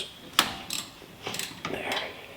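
A ratchet with a Torx T45 bit breaks loose the rear brake caliper bolts on a Mazda CX-30, giving a few sharp, scattered metallic clicks, close and fairly faint, with quiet gaps between them.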